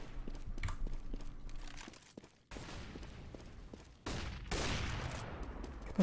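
Gunfire from a Counter-Strike match, including P90 fire during a DreamHack Summer qualifier: sharp rapid shots and bursts in a dense exchange, loud and close, with crunchy impacts and no talk.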